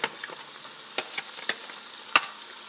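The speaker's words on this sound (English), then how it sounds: "I am going to put the onion, put in my pepper" Onion and pepper sauté in a pan with a soft, even sizzle, broken by a few sharp ticks and spatters, one louder near the end. No voices.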